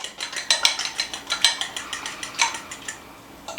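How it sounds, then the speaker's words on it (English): A fork whisks eggs in a bowl for fried rice, giving quick, sharp metallic clicks in a fast, steady rhythm that slows near the end. The sound is close and clear, with no talking. "whisk them together with a fork."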